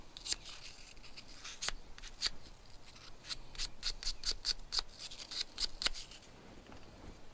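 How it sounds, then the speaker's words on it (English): Fine sandpaper rubbing carbon deposit off a marine spark plug, a series of short dry scratchy strokes in uneven bursts, close and quiet against faint background noise. "There's a little bit of carbon deposit over here. We can clean that with a fine paper."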